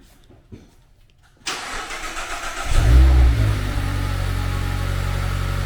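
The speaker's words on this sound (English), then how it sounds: "we're going to get a little cold start here" A Mazda Miata ND on its stock exhaust cold-starts after a quiet pause: the starter catches sharply and the engine flares up loud, then settles into a steady, high cold idle close by.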